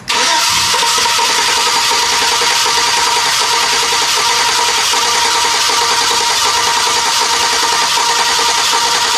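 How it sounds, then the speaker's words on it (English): A GMC Sierra with a 5.3L V8, suffering a misfire and a broken valve spring, cranks over without starting. The starter churns loud, close and continuous for about nine seconds. "Crank it over. It won't start, or it shouldn't start."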